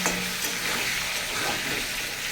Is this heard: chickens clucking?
no